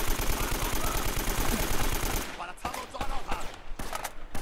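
Rapid automatic gunfire from the video game Uncharted: Drake's Fortune, a dense burst of shots for about two seconds followed by scattered single cracks and short bursts.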